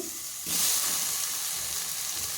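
Coconut and ginger fry in a pan for chutney, a bright sizzle that flares up loudly after a brief quiet start and keeps hissing steadily up close.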